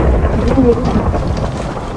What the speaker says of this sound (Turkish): yani abi üstüme şimşek düşmesi bir tuhaf